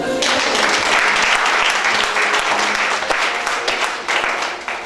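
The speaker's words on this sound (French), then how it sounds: "Acclamons le Seigneur" A congregation in church claps and cheers in acclaim, a dense wash of applause with scattered shouts that holds strong before tapering slightly near the end.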